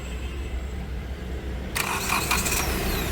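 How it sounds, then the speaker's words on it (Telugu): A 2015 Hyundai Elantra SX with a 1.6 litre diesel engine cranks briefly and fires on a single start, then settles into a steady idle, heard up close. "సింగిల్ సెల్ఫ్లో కార్ స్టార్ట్ అయితే ఎటువంటి స్టార్టింగ్ ట్రబుల్ అయితే లేదు"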